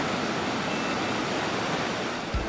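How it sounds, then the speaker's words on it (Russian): Whitewater of the Neitikoski rapids in Lieksa, Finland, roars as a loud, steady, unbroken rush of churning water, with a soft thump near the end. "И вот мы пересекаем озеро и подходим вплотную к порогу Нейтикоски."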